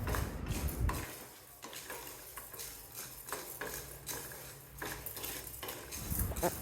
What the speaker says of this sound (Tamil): உளுந்தம்பருப்பு, பாசிப்பருப்பு, வேர்க்கடலை எல்லாம் சேர்த்து இப்போ வறுக்கணும்.